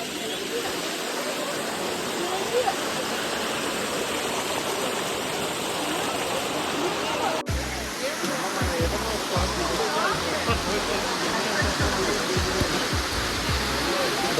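A full waterfall at Emerald Pool in Thailand rushes in a constant, loud roar of falling water, with low thumps and splashes joining partway through.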